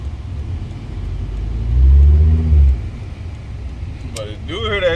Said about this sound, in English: But it do hear that turbo.